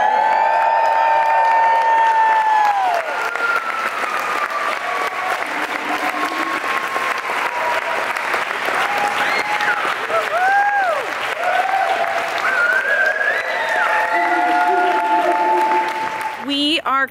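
A large audience at the Physique Summit claps and cheers loudly and continuously, a dense wash of applause with whoops and shouts on top, ending in a sudden burst of noise.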